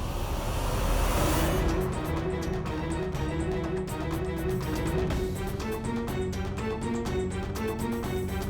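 A car pulls up to collect waiting guests, its engine a soft, steady hum under a faint whoosh of arrival that settles into a low idle.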